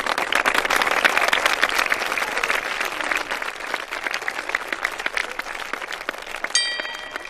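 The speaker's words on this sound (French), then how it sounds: "Et on applaudit." Sustained audience applause fills the room steadily for several seconds, dense and fairly loud, tapering slightly toward the end with no speech over it.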